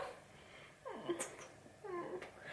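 Two soft kitten meows, each drawn out and rising then falling, heard quietly and close with a short gap between.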